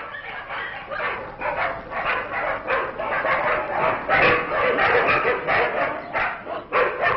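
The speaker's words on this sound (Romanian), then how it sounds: "Lătrăturile pe care le auziți provin dintr-o casă vecină cu câteva udăi ocupate de o haită sălbatică de câini murdari" Feral stray dogs kept in a nearby house in central Bucharest bark nonstop in a dense, overlapping chorus of yips and whines, moderately distant and steady throughout.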